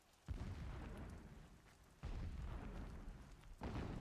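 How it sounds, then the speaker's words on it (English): Deep booming blasts in the Horizon video game, three heavy low rumbles with sharp onsets, each sustained and rolling before the next, fairly loud and close, with no talk over them. "I hear explosions"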